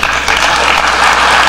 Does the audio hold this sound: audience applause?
yes